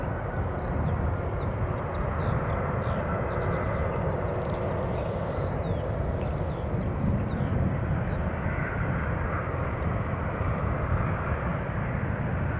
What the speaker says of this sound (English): you can probably hear the sound of a taxiing Boeing 737